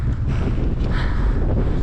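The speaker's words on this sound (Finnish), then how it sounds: "Tuuli on aika kova täällä." Strong wind buffets the microphone in a steady, rumbling rush, loud and close, with no voices, high in the mountains of the Everest Base Camp trek in Nepal, near a small glacier.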